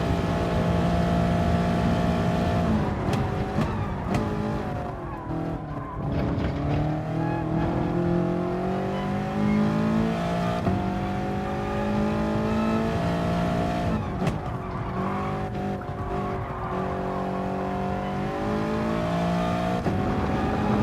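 A race car in Gran Turismo laps the Nürburgring with a steady, loud engine drone that rises and falls through gear shifts and revs, with occasional brief drops as it brakes for corners.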